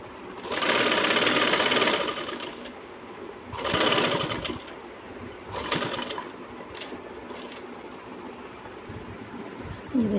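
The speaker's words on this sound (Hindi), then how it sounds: "और अब हमने इसको इस तरह से यहाँ सिलाई लगा देनी है।" A sewing machine stitches a dress panel in loud close whirring bursts, a long run, a shorter one, then brief stuttering spurts separated by quiet pauses.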